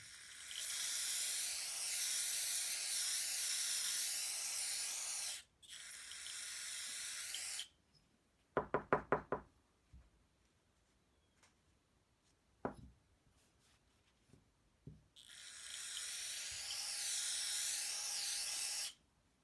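Cleaner sprayed from a can into the valve cover groove of a 2008 Kawasaki Teryx, heard as several long, close hissing bursts separated by pauses, with brief clicks and light knocks in between.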